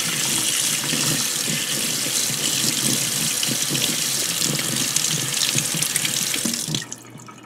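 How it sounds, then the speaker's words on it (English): Tap water runs steadily into a sink, rinsing dried acrylic paint out of a brush, a loud, close continuous gush that cuts off abruptly near the end. "I am sure the water will just completely remove the leftovers"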